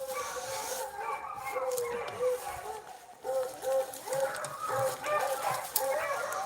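Beagle pack in full cry chasing rabbits through cover, several hounds baying and yelping in overlapping bursts at middle distance, the chorus rising and falling continuously.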